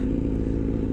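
Low, throbbing idle of a Harley motorcycle engine, close by, with a steady rumbling pulse through the whole brief moment.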